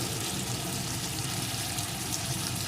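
Chopped tomato and slit green chilies with salt and turmeric fry in a pan, giving an even, dense sizzle that holds steady throughout without a break.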